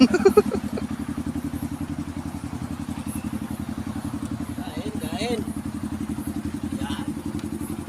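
A motorcycle engine runs at a steady, throbbing idle throughout, close and fairly loud, while people talk and laugh over it during a casual food trip outing.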